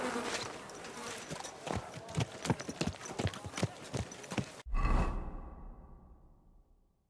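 Horse hooves clip-clop in Kingdom Come: Deliverance II, a steady run of fairly close, evenly paced beats that stops abruptly and leaves a low fading rumble.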